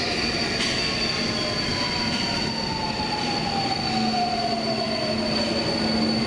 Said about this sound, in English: a trip on the M4, Budapest's newest underground railway